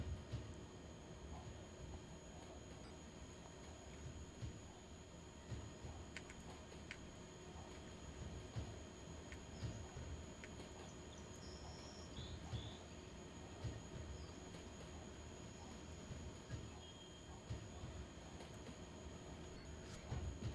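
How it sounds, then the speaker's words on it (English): Rhythmic clacking of train wheels over rail joints in the SimRail simulator, a steady low rumble of a train picking up speed with repeated faint clicks, heard alone without talk. "So yeah, you get the track joint sounds."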